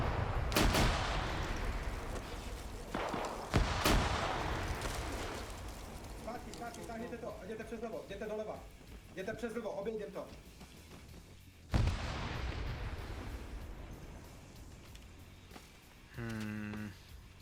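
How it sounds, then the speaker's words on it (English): Heavy gunfire and explosions from a military video game, with loud booming blasts and rattling bursts from a grenade machine gun fired into an enemy group, voices talking over the battle. "it is firing GMG into this Blue 4 group back here"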